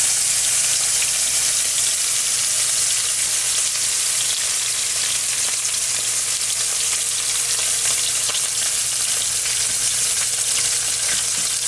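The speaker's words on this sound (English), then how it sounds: "You want to get a good sear before you turn it." Meat searing in a hot pan gives a steady, loud, close sizzle with a broad hiss that holds evenly throughout, with no talking over it.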